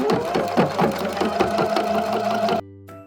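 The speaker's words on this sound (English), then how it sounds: "let's stitch these pants down" A sewing machine runs a steady stitching burst along the leg hem of high-waisted shorts, motor humming close and even, then stopping abruptly near the end.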